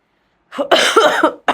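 A single harsh cough burst, close and fairly loud, with a brief second one starting at the end.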